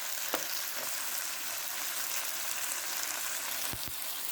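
Campbell's Marsala sauce bubbles and sizzles in a hot pan while being spread around, a dense, even frying hiss with a few faint clicks of a utensil, no talk.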